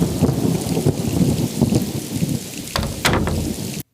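A thunderstorm sound effect of heavy rain pouring steadily, with rumbling thunder and a sharper crack near the end before it cuts off abruptly; loud and close, with no voices.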